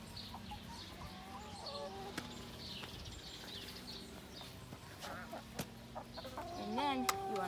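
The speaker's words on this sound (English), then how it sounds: "Here's some chickens." Backyard chickens cluck in a scattered, irregular chorus at moderate distance, with a few sharp knocks and a louder burst of clucking near the end, while a person talks quietly now and then.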